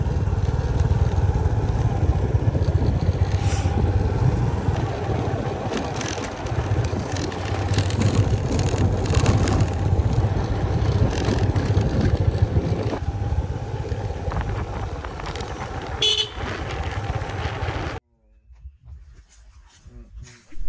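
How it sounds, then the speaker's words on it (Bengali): A motorcycle engine drones steadily and loud on a hill road ride from Jhandi to Dovan, close and continuous with wind rumble, then cuts out abruptly near the end, leaving a quiet, faint tail. "রাস্তা দিয়ে যেতে যেতে আমি তো বাইক চালাচ্ছি"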